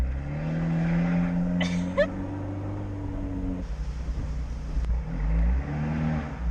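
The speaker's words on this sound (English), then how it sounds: "God, this car is so loud." An Abarth 124 Spider sports car engine drones and revs loudly nearby, pitch shifting as it accelerates, with a brief tire chirp partway through.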